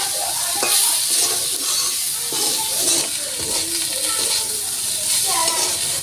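Small shrimp with a little grated coconut sizzle and hiss in a frying pan, with intermittent scraping stirs of a spatula over the steady close-up crackle of hot oil.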